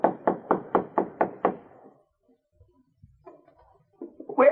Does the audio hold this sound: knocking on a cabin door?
yes